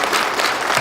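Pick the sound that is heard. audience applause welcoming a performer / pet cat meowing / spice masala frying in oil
audience applause welcoming a performer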